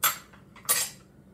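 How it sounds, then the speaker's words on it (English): Dishes and cutlery are washed up in a kitchen after marinating salmon, giving two loud, bright clattering bursts of metal and crockery close by, with a lighter clink between them. "always wash up all your extra dishes"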